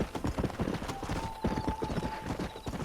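Horse hooves from the video game Red Dead Redemption beat a quick, rhythmic clip-clop at a steady pace, close and clear throughout, with a faint held tone sounding in the middle.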